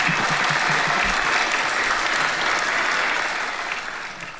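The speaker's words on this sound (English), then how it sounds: "you want a hand clap, don't you?" Audience applause at a sermon-style talk, dense steady hand clapping from a crowd that holds loud throughout and tapers slightly near the end.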